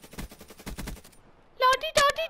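In a first-person shooter video game, short loud bursts of gunfire crack out close together after a stretch of a speaking voice.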